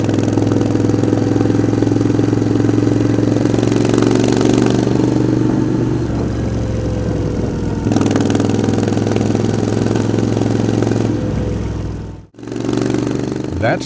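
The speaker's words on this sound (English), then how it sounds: "That's the Moto Guzzi V7." A Moto Guzzi V7 motorcycle engine idles loud and near with a steady mechanical clatter, lifting in a couple of gentle blips before a short cutoff and restart.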